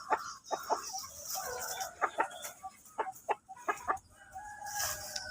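Chickens cluck and crow in a series of loud, close squawks and calls, with irregular bursts spread over the whole stretch and no talking.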